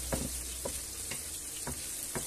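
Sausages, red pepper and peas frying in a single pan, a continuous sizzle broken by about five sharp spitting splashes at a roughly regular pace, close and fairly quiet with no talking.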